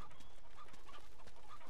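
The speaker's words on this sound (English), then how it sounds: "There's chickens" Chickens clucking in the video game Uncharted 2, a steady flock heard at moderate distance over dense continuous ambient noise.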